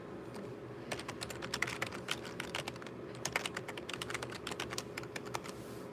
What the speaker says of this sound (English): So I'm going to type something in here.